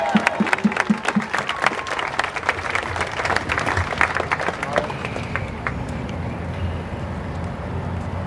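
Rally crowd applauding and cheering outdoors, dense clapping in the first half that thins into crowd murmur and scattered claps, with voices mixed in throughout.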